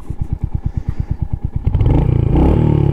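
A Royal Enfield Hunter 350 single-cylinder motorcycle, loud and close, thumps at a steady idle pulse and then revs up into a louder, denser engine roar as it accelerates away.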